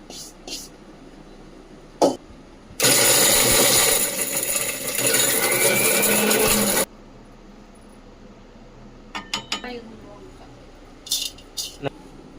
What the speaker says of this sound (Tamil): எல்லாத்தையும் மிக்சியில் போட்டு ஒரு அடி அடிச்சுக்கலாம்.